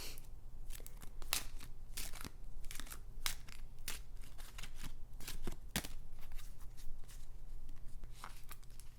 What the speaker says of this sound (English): Now I will be shuffling the cards from the Small Mysteries Tarot that I got on Etsy.